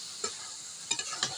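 Rohu fish roe frying in a pan, a soft steady sizzle under a few distinct scraping stirs of a spatula, close and fairly quiet with no talking.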